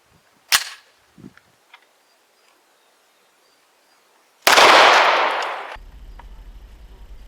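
A pistol fires a 9mm Parabellum round in an ammunition test. One sharp, loud crack stands out against near silence, followed by faint clicks and later a long, loud rushing blast of noise.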